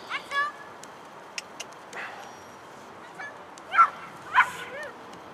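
A tired dog on a walk whimpers and yips in short, high whines that come a few times against a quiet outdoor background, with people talking nearby.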